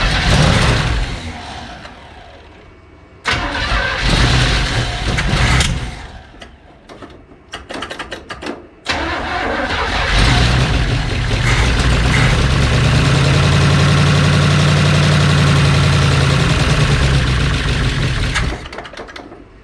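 A 1970 Chevrolet C10 engine, seized only hours earlier, cranks in short bursts, catches, then settles into a steady, loud, close-up running drone with a low rumble that holds for several seconds.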